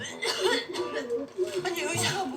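A person coughs roughly several times in quick succession, with throaty, exaggerated bursts and a gruff vocal quality.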